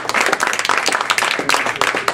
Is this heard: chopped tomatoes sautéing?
no